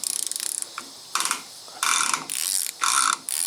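A hand ratchet loosens a left-hand-thread nut on the rear axle of a 2003 Ford F250, rapid metallic clicking in several bursts separated by brief pauses, close and loud with no talk.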